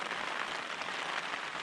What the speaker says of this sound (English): so you can probably hear the rain now.